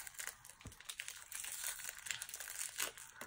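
A doll's plastic package being opened by hand, with continuous crinkling and crackling of stiff plastic, close and fairly quiet, with a brief tearing snap early on.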